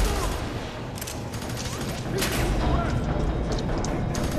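Dense, continuous gunfire and explosions in the video game FEAR 3, a loud steady barrage of overlapping shots, with a person talking over it.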